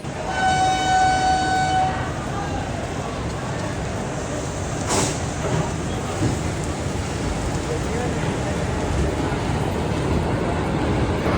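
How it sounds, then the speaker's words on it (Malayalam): A train horn blares for a couple of seconds, then a stationary MEMU train at Patna Junction hums and rumbles steadily while people talk faintly in the background. "പട്ന വരെ വന്ന ഒരു മെമു ട്രെയിനാണ് ഈ കാണുന്നത് കേട്ടോ"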